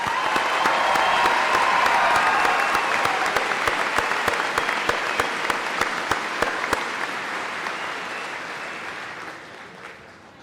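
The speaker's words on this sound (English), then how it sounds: "please give this extraordinary class of 2017 and all of they've accomplished another round of applause" A high school graduation audience in Granite Falls applauds the class of 2017 with loud, dense clapping that starts at full strength and gradually thins and fades out toward the end.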